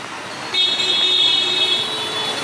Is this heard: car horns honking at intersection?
yes